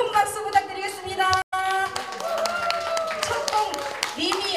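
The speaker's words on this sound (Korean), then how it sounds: "여러분 큰 박수 부탁드리겠습니다" At a family-month talent-donation event held at a day care centre in Sangju, an audience claps to welcome a singer, scattered handclaps under a speaking voice over a sustained musical tone, with a brief dropout partway through.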